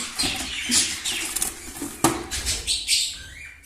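Budgerigars chirping and fluttering in an aviary during their moulting season, a busy mix of close, quick high tweets and wing rustles with scattered scratchy patters.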